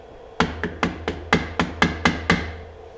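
A tool taps on an AR-15 lower receiver part while non-rotating pins are installed: nine sharp metallic-wooden taps, close and fairly loud, in an even rhythm of about one every quarter second, with no talk over them.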